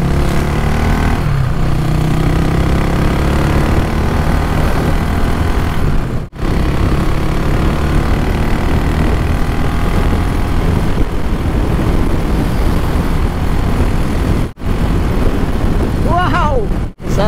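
CAFE400 motorcycle on size 17 Beast Tire tires, loud steady engine drone and wind rush while riding, with talk over it.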